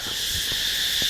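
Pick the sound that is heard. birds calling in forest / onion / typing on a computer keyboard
birds calling in forest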